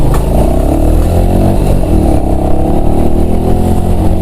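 A Honda Pop motorcycle engine revs loud and close, a steady continuous drone with slight pitch swells, alone with no talk.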